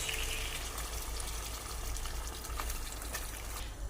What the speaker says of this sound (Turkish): Evet suyunu da döktüm.